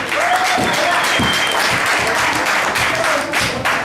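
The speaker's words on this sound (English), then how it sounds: "let's have a nice warm round of applause for Mark Inezan." Audience applause at a poker tournament final table, a loud, steady burst of many hands clapping close by, sustained throughout with a few individual claps standing out.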